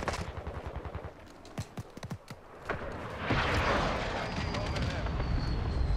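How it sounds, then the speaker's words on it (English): Rapid bursts of gunfire crackle in a Call of Duty: Modern Warfare 6v6 multiplayer match, a string of sharp shots in the first few seconds giving way to a loud, sustained roar of battle noise. "Where are those shots coming from?"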